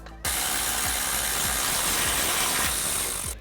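A socket ratchet clicks rapidly and steadily while an 18mm shock bolt is backed off on a Jeep JL during a suspension lift install, the close, crisp pawl ticks running continuously for about three seconds with no talking.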